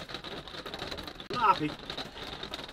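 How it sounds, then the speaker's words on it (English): Heavy rain falls straight down with a constant, even hiss beneath a person speaking nearby. "I hope you can hear me above the rain."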